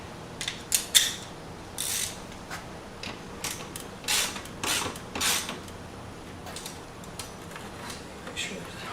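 Seat bolts on a 1999-2006 Chevy Suburban seat bottom are tightened, giving faint scattered bursts of ratchet clicks and creaks in a quiet space.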